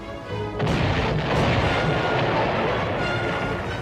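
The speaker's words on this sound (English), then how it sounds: "Destroyers on both sides exchanged light fire." Naval gunfire between destroyers sounds as a dense, continuous roar of booming blasts, low and rumbling, with a few sharper reports standing out.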